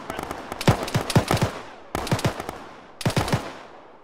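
Automatic gunfire in Arma during a ShackTac multiplayer firefight: three loud, close bursts of rapid rifle shots separated by brief pauses, each shot cracking sharply over a continuous rumbling battle background.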